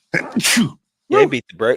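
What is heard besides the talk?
sneeze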